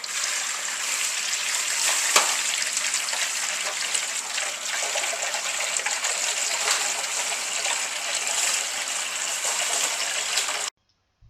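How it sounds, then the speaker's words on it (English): Cold water pours steadily from a tap into a bowl, a continuous rushing gush that stays loud for about ten seconds before cutting off abruptly. "Fill a bowl with cold water."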